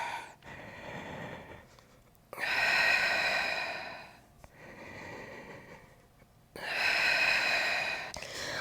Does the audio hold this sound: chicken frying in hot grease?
no